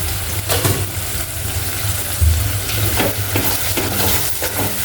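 Masala sizzles in oil in a pan for a traditional val (field bean) dish. A spoon scrapes and stirs it with steady frying crackle and occasional clinks, close and fairly loud.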